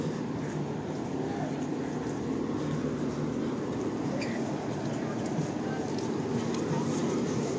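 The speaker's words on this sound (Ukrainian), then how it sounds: "Трамвай." A tram passes through Lviv's city centre on a hot day, a steady rumbling drone of the street running throughout amid outdoor city noise, with some voices in the background.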